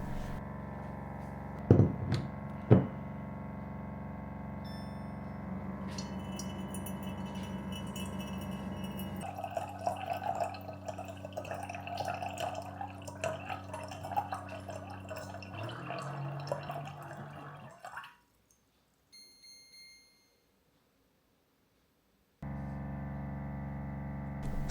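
Water runs from a Waterdrop reverse osmosis filter dispenser into a jug, a steady pouring trickle with a few clinks near the start, stopping abruptly before a short silence and then resuming.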